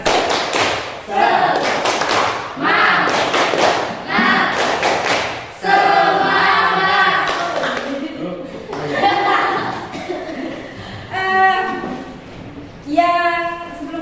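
A classroom of students doing rhythmic spirit clapping, loud bursts of patterned claps in repeated phrases alternating with a teacher talking and children responding.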